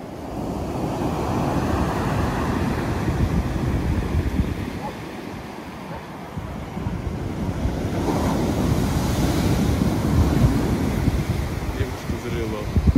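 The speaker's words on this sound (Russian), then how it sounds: "Волны достаточно сильные." Strong winter waves on the Black Sea break on the shore at Sochi, a continuous loud surf roar with rising and falling surges and some wind buffeting the microphone.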